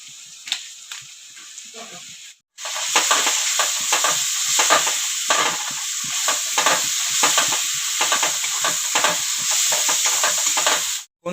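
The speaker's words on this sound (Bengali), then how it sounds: "এখন দিয়ে দিব জিরা বাটা, আদা বাটা, লঙ্কা বাটা একসাথে। দিয়ে দিব হলুদ" Cumin, ginger and chili paste with turmeric is tipped into hot oil and bursts into a loud, steady sizzle with scraping stirs, cut by a brief pause near the end.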